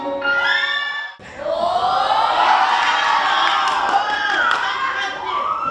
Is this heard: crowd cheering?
yes